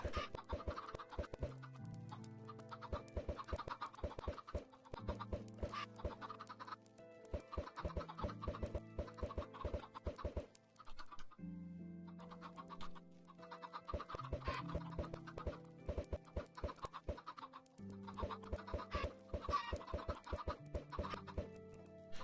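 Chickens cluck in repeated short bursts in Minecraft, underground on a chicken farm, faint and close, with a steady scratchy clicking running throughout.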